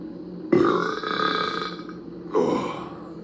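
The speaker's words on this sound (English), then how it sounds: "finishing his meal, he let out a burp." A man burps after drinking milk in an animated story, with one long, loud, rumbling belch followed by a second shorter burp.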